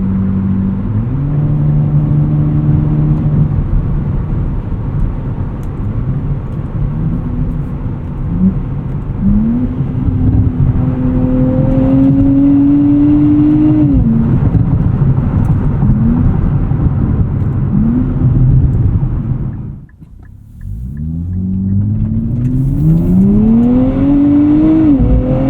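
A 2024 Nissan Z Nismo sports car's engine drones loud and close from inside the cabin while driving, rising and falling in pitch through gear changes, with a brief drop in sound near the end before revving up again.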